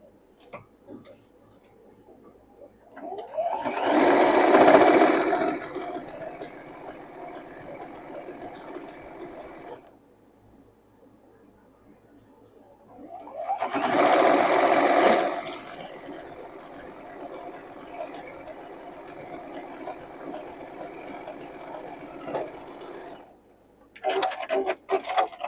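A sewing machine stitches fabric for a sewing-room clock project in two long runs, each starting with a louder whirring burst and settling into a steady hum, with quiet gaps between and a short start at the end.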